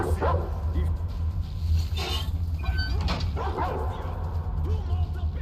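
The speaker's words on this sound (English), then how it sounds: "Down, dogs, back!" Dogs in a post-apocalyptic Russia video game bark and yip repeatedly at close range, with whimpering mixed in, while someone shouts over them.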